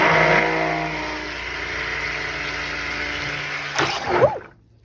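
A stick blender whirs steadily and loud for nearly four seconds, a dense broadband motor roar, then shifts briefly before cutting off into quiet.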